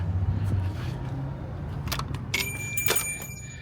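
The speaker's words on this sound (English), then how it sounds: "I love that little bell" A small shop bell in a boutique rings with a bright, brief jingle near the end, over low room noise and faint rustling.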